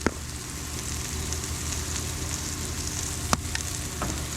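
Sweet potatoes sizzling in olive oil in a pan, a steady close crackle and hiss with a couple of faint clinks of a utensil, no talking.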